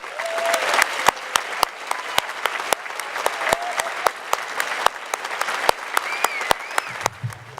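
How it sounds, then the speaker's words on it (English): An audience under a tent at a 2009 community college commencement applauds for more than seven seconds, a continuous bed of clapping punctuated by distinct sharp individual claps close by. "Please join me in applauding."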